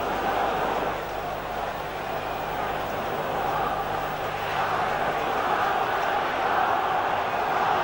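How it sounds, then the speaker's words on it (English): A football stadium crowd roars steadily at a 1969/70 First Division match between Derby County and Tottenham Hotspur, a broad, sustained wash of excited noise that swells slightly toward the end. "Crowd boiling with excitement now."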